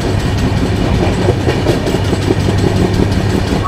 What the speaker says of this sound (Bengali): ট্রেন আমাদের এসে পৌঁছালো সীমাচলম রেলওয়ে স্টেশন